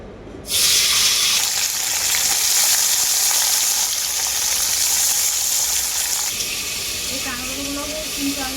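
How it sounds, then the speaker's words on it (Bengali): Crabs sizzle loudly in mustard oil in a wok, a steady dense frying hiss from start to finish that eases slightly near the end as faint stirring sounds come in. "এরপর আমি কাঁকড়গুলো ভেজে নেবো"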